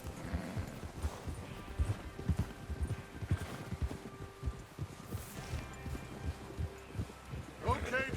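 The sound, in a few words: horses riding out, from video game Red Dead Redemption 2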